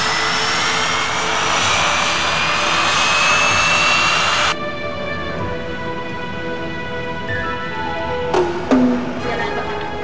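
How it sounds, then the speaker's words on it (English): A jet airliner taxiing toward the runway, its engines giving a loud, close, steady whine with a bright tonal hum that drops abruptly partway through, followed by a brief shift in pitch. "You're cleared to taxi to runway 15."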